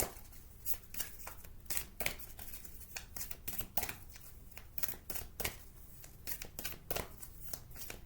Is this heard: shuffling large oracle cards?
yes